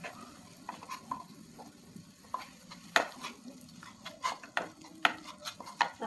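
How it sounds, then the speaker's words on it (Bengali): Spice paste of ground cumin, chilli powder and turmeric stirred and fried in a pan for a Bengali fish curry, with a soft, steady sizzle and irregular scraping knocks of a spoon against the pan, no talking. "মশলাটা ভালোভাবে এখন কষিয়ে নেব।"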